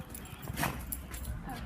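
A dog lets out a short whimpering yelp indoors in a family home, one brief, fairly close cry over light room noise.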